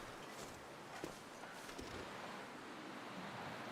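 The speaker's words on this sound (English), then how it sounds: "It's getting windy, though." Wind in The Long Dark blows as a steady, faint, hissing rush with slight gusts, continuous and without voices.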